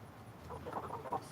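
A few soft, short clucks from chickens outdoors, quiet and close, in a brief burst over light background noise.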